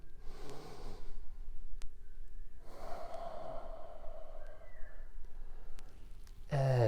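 Slow, deep yoga breaths during a power flow class, long audible inhales and exhales through the nose, near and fairly loud, in several drawn-out waves before a voice breaks in at the end.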